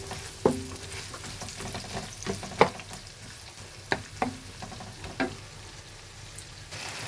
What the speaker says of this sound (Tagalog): Fry natin ang recado para masarap. Mga bawang, sibuyas, tsaka ginger.